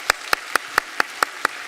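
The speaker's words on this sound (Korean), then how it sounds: "우리 박수로 환영하겠습니다." Church congregation clapping at a Sunday service to welcome newly registered young families, heard as seven sharp, evenly spaced claps in a steady rhythm, close and fairly loud with no talk over them.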